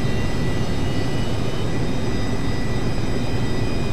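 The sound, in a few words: Rockwell B-1A Lancer jet engines spooling up, Flight Simulator X video game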